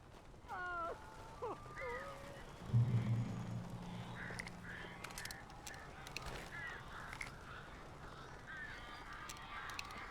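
Strange birds in the game Alan Wake give a few short honking, goose-like calls early on, followed by a low thud and a quiet, rustling ambience with faint scattered chirps and clicks.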